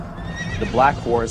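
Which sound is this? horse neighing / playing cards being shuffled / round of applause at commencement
horse neighing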